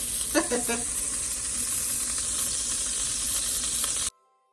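Steady sizzling and hiss of butter melting in a hot pan, close and continuous, with a few faint clinks early on, then an abrupt cut to silence.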